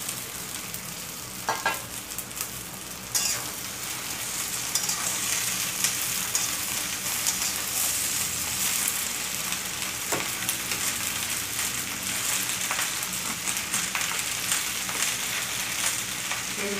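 Chopped okra, also called bhindi, frying in hot oil with onions: a loud, steady sizzle throughout, broken now and then by scraping stirs of a spatula in the pan.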